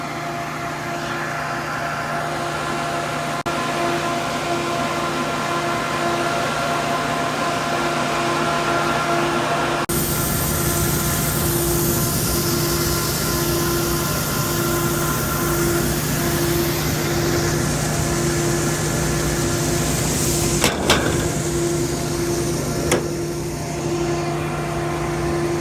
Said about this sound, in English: This is a continuous flow grain dryer, and we're running propane.